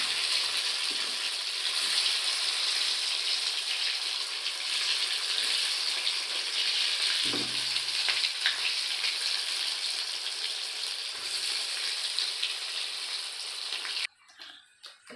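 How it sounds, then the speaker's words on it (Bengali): Boiled potatoes fry in hot oil for a chicken biryani, making a long, steady, close sizzle with a brief clatter midway before the frying noise cuts off abruptly near the end. "তেল গরম হয়ে গেছে, এবার আলুগুলো আমি ভেজে নেব লাল করে।"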